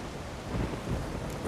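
Thunderstorm with steady heavy rain in The Witcher 3, a dense continuous wash of downpour with a low rumbling swell of thunder rolling underneath, loud and close with no voices.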